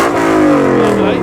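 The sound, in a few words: Ford Mustang engine revving at car show sound-off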